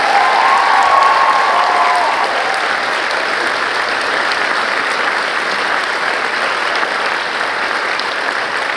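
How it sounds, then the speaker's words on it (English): Sustained audience applause for Year 12 students at a school cabaret, steady loud clapping from a large crowd filling the room throughout. "could we please give a massive round of applause to our Year 12 students"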